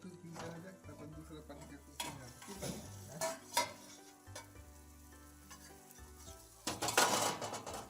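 Chhana bhujiya frying in a pan over a high flame, a steady sizzle broken by scraping stirs and a few sharp clanks of the spoon, swelling louder near the end.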